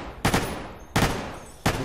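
Three separate Colt M4A1 rifle shots in Fallout: New Vegas ring out in a slow, even rhythm, each a sharp loud crack with a short tail and no talk.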